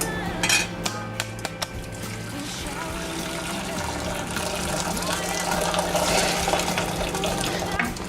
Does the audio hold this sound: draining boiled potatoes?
yes